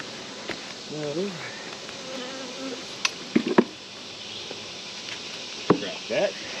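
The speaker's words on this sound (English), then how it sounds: "a lot of bees in there too" Bees drone continuously in an open, mite-infested hive during feeding, a steady buzzing bed broken by brief rising whines of bees flying close and a few sharp knocks and taps from handling the hive.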